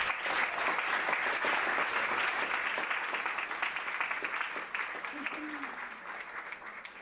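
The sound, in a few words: applause at a dinner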